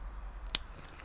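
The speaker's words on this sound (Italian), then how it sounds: "dopo aver sterilizzato le forbici faccio un piccolo taglio a 5-10" A single crisp snip of sterilized scissors cutting through a pothos stem, short and close, standing alone against quiet room noise.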